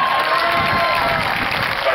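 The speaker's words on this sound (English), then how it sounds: "Round of applause for him." An audience at a 2019 San Benito Mighty Greyhound high school band showcase claps and cheers for a soloist, a dense, loud, steady wash of applause throughout.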